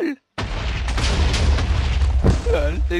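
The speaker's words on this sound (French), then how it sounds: "LOL, l'explosion c'est trop cool!" Minecraft explosion, a sudden loud boom after a brief silence with a long rumbling low-end tail, a second sharp blast near the end, and a voice talking over it.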